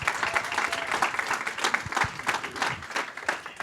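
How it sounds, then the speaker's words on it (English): At a panel discussion event, an audience claps for an alumni board chair being introduced, a moderate, fairly close round of applause with uneven, bursty clapping through the short stretch. "Claps and cheers to Miss Malika"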